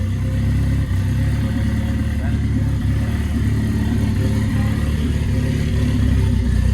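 A Lexus SC300 engine idles after an exhaust repair, with a loud, steady, close-up rumble that holds an even, smooth tone throughout the whole stretch.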